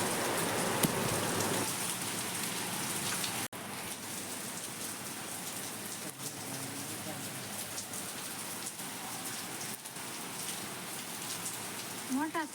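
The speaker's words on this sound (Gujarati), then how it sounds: "જો કેટલો વરસાદ આવે છે" Steady, heavy rain pours down in a dense, continuous hiss, with brief voices and faint clatter underneath.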